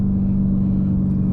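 A widebody Dodge Hellcat accelerates on a city street, with a steady, loud supercharger whine over a deep engine drone, heard briefly from inside the car.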